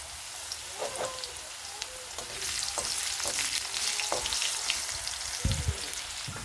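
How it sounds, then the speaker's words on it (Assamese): Potato pieces fry in oil left over from frying bora, a steady close sizzle and crackle with scattered pops and light stirring clicks, no talking. "আৰু এতিয়া মই আলুখিনি অলপ ফ্ৰাই কৰি ল'ম"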